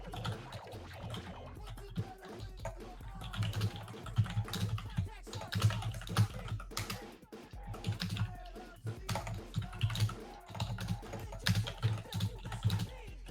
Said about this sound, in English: It sounds like laptop typing.